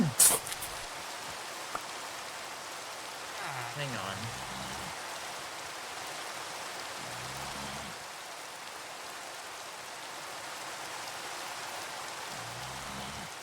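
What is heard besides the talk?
rain in the video game Minecraft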